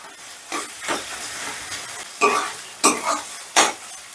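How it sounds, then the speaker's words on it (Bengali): Onion-based masala for paneer do pyaza being sautéed with turmeric and Kashmiri chili powder, with repeated scraping stirs of a spoon over a soft sizzle, several strokes spaced irregularly, close and without talk. "এবারে এটা দিয়েও আমি এই দু তিন মিনিটের মতন কষে নিচ্ছি"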